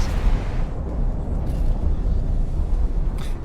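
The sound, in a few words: explosion in X4 Foundations video game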